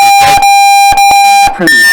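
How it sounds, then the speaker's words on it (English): At a 5-man paintball tournament playoff, a loud, harsh electronic buzzer blares in one long sustained tone, broken by brief gaps, with voices and arena noise mixed in. "they're going to go and hit that buzzer after checking themselves as well"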